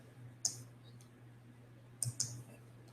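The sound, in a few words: clicking the F11 key on a computer keyboard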